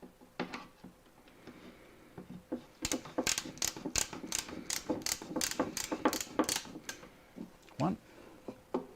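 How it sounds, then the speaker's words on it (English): A screw driven into old furniture makes a burst of rapid ratcheting clicks from a hand tool, close and crisp, with brief talking before and after. "I'll put this screw in."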